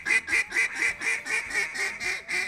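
A cut-down duck call quacks in a quick, even run of about ten nasal quacks, loud and close, evenly paced with no talking.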